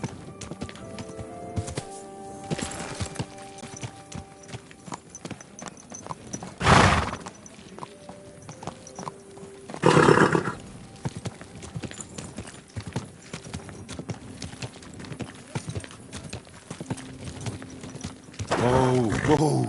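Horse hooves clip-clop steadily while a horse neighs loudly several times, with scattered mechanical clinks between, in the video game Kingdom Come: Deliverance II.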